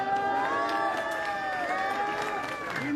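A large crowd at a protest rally sends up a steady wash of shouting and cheering voices, with whoops rising over a continuous roar and no break in the noise.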